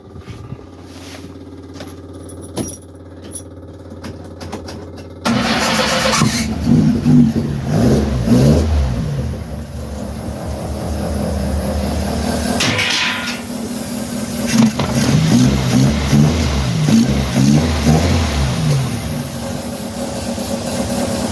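A Ford Escort engine starts after a quiet stretch of small mechanical sounds, then runs with a rough, lumpy idle and rises through several revs, loud and close.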